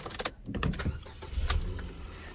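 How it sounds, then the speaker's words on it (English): Ford Fiesta Style started on the key: clicks and a brief churning crank, then the engine catches with a low rumble and settles, recorded close inside the cabin without speech. "Starts on the key."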